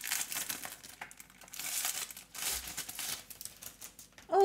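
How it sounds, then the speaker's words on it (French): Sheets of glossy photo paper for a Canon SELPHY CP1500 compact printer are unwrapped close up, giving bursts of crinkling and rustling plastic wrap that rise and fall for a few seconds. "Oui, il faut déballer les feuilles, Rosaïs."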